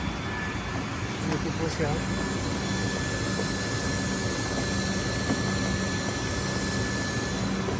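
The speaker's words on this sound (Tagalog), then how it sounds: "Yan ang makina ng core tube machine." A core tube machine runs with a steady, dense mechanical drone and broadband roar that never lets up, while a person speaks briefly close by.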